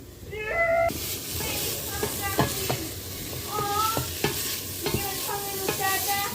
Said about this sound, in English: Good sizzling going on.